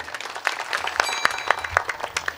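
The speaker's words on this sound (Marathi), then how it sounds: "एकदा जोरदार टाळ्या वाजवा" Audience at a kirtan breaks into brisk applause, a dense round of many hands clapping with a few sharper claps standing out, fairly close and steady throughout with no talk.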